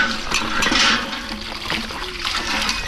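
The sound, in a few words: washing okra with clean water at a hand pump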